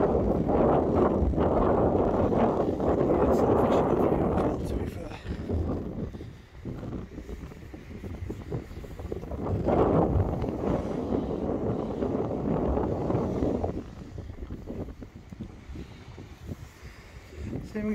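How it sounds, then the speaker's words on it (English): Strong wind buffets the microphone at White Beach, a loud, steady roar that swells in gusts, eases around the middle, then surges again before fading toward the end. "I've got a drone, but it's a bit too windy here."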